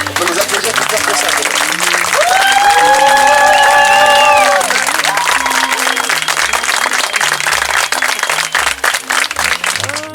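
Wedding guests at an engagement ceremony break into loud, sustained applause with cheering and shouts, a crowd voice rising above the clapping early on before the clapping thins toward the end.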